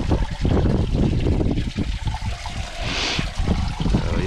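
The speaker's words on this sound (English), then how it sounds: "That's a whole coolant flush." Water flushes steadily through the cooling system of a budget BMW drift car during a coolant flush, a continuous close trickling and gushing flow with no speech.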